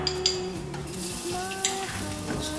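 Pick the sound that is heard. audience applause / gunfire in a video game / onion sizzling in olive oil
onion sizzling in olive oil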